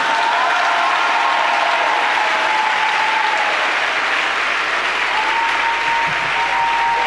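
A church congregation applauding during a sermon, dense sustained clapping filling the room, loud and even throughout.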